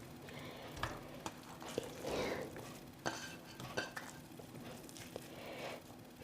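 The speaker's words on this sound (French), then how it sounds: "dans une poêle, vous allez mettre la viande hachée" Minced beef fries in a pan with a soft, steady sizzle, broken by occasional scraping stirs and light utensil knocks against the pan, close and moderately quiet.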